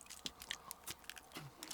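Crunchy KitKat chocolate bar being unwrapped and bitten, a string of quiet crinkles and crisp crunches close by, with no voices.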